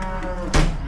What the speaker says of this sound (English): we're also in the middle, as you can hear, sorting cattle out